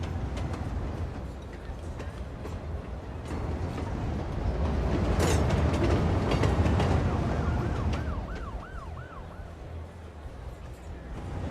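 Trains and crowd ambience at a packed station in Cities Skylines II, a dense continuous city-simulation hum with rumbling traffic, a siren wailing in the background and scattered clicks, moderately loud and steady.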